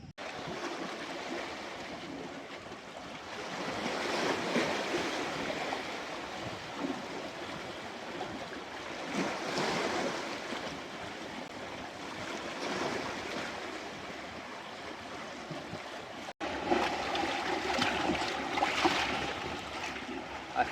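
Sea waves wash onto a beach in slow surges, a soft continuous rushing hiss that swells and fades several times, faint and steady with no voices.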